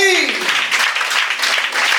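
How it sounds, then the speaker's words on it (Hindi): A church congregation claps for the Lord during a sermon, a dense patter of many hands following a fading voice, steady and fairly close for a couple of seconds. "ताली बजाएंगे प्रभु के लिए।"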